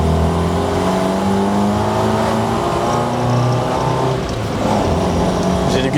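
Ford Taunus with its original 1.3 litre engine accelerating, a steady, loud engine drone that climbs gradually in pitch with harmonic layers, heard from inside the car with no talking.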